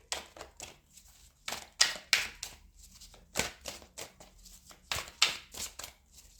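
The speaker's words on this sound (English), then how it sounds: "Last shuffle." Tarot cards shuffled by hand in bursts of crisp riffling and soft slaps, close and moderately loud, with irregular pauses between the flurries.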